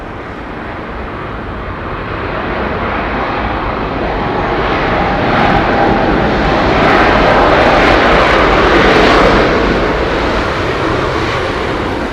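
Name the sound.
Vistara Boeing 787 Dreamliner jet passing at Heathrow Airport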